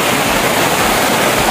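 Buruwisan Falls in Siniloan, Laguna roars as a loud, dense wash of falling and rushing water, steady broadband noise close by with no voices.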